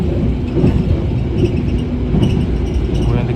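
The KA Pandalungan executive express train speeds along a single track, with a loud, steady rumble and rattling wheel noise heard from inside the carriage and brief metallic clatters, no talk audible.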